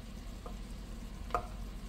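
Onions frying in a pot give a faint, steady low sizzle with a couple of soft stirring clinks, heard alone with no talking.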